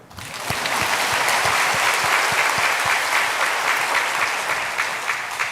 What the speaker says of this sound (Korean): 여기는 박수 안 쳐요?